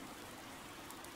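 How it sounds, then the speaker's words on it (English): Steady rain falls in a video game battle scene at the Tailteann Plains, a soft, even hiss of dense rainfall with no voices. "Oddly, the rain has come to fall yet again."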